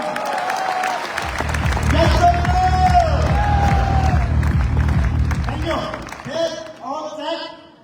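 A large audience in a packed stadium bursts into loud, sustained clapping and cheering that swells, holds for several seconds, then thins out as voices rise over the fading applause.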